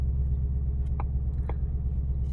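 A car engine just started after entering an IGLA immobiliser code, settling into a steady low, throbbing idle close by, with a couple of faint clicks over the rumble and no talking.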